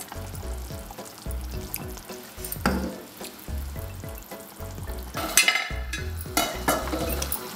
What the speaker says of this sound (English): Cook the pumpkin dal for a few more minutes.